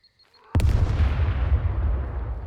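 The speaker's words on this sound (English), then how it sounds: "So 3 explosions and they died." A makeshift explosive detonates in the survival game SCUM with a single loud, close boom after a brief quiet moment, then a long rumbling tail that fades slowly.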